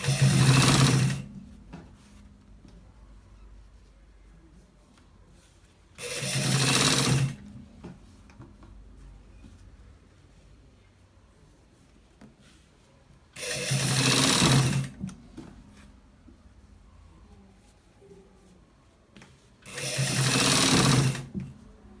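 A sewing machine stitches a shirt collar in four separate bursts of rapid, buzzing stitching, each a second or two long, with quiet pauses between them.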